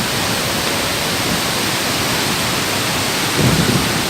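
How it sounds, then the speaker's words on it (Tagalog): Heavy rain pours steadily during a motorcycle ride near Baler, a dense, unbroken roar of water close around, with a low rumble of thunder swelling near the end. "so it's raining"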